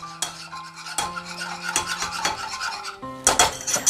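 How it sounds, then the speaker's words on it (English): Custard mixture whisked quickly in a pot, a busy metallic scraping and clinking of whisk against the sides, continuous and fairly close, with no voices. "I'm going to whisk this really quick"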